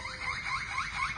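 A parrot imitates a car alarm, producing a repeating series of rising, warbling electronic-sounding whoops at a moderate level, with no talk over it.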